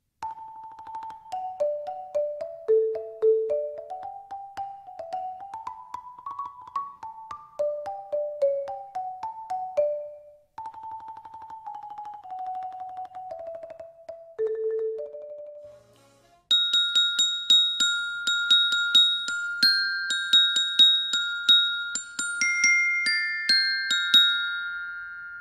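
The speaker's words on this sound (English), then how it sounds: "The bells produce sound by being struck with mallets." Mallet-struck percussion bells for a sixth-grade school music class ring out in clear, sustained tones, first a slow stepwise melody of single notes, then brighter repeated high strikes and layered chords, with no talking.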